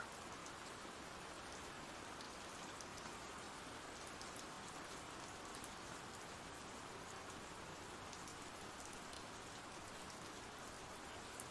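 Steady ambient rain falling on surfaces, a dense, continuous hiss with fine droplet patter that stays even and unbroken throughout, with no voices.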